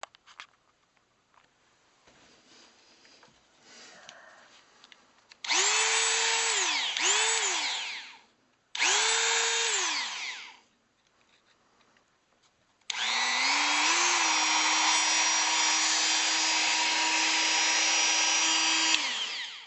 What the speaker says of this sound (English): So I'll get the Dremel and saw one of these off